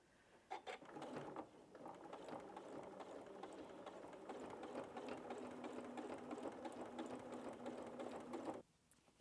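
A sewing machine fitted with a heavy 90–100 needle runs a line of top stitching through thick layers of stocking bunting, whirring in a fast, even mechanical rhythm for about eight seconds before stopping, close but quiet.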